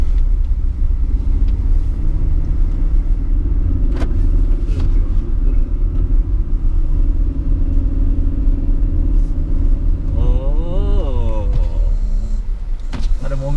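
Honda BR-V car climbing a steep uphill slope, heard from inside as a loud, steady engine and road rumble, with a short voice rising briefly over it near the end.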